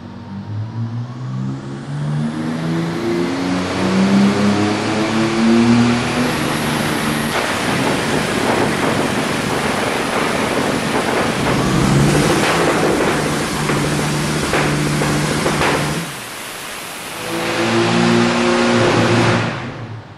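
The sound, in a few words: BMW S58 engine revving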